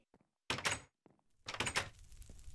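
A Minecraft wooden door clacks twice, opening then shutting, each a quick nearby thunk with a brief rattle, separated by a short quiet gap.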